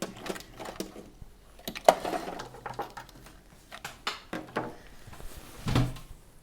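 A sewing machine backstitches at the neckline of a Niagara keyhole bodice, giving short irregular mechanical bursts and clicks with quiet pauses between them, close and fairly soft.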